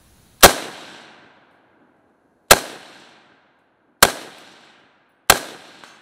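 Four sharp, loud rifle shots from a modded 5.56 Galil ACE at an outdoor range, each a sudden crack with a ringing decaying tail, spaced irregularly about one to two seconds apart.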